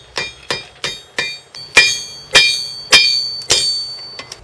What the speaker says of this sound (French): Le soudage est obtenu en frappant la trousse au marteau.